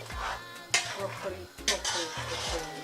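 A spoon stirs ofe onugbu, a bitterleaf soup with palm oil, in a pot: soft scraping and a few sharp clinks of metal against the pot, close and moderately loud.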